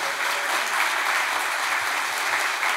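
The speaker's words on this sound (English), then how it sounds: "give them a round of applause" Audience applause for a group of award-winning chefs after a talk on Korean flavors, a steady dense clapping that fills the whole stretch at an even, fairly loud level with no talk over it.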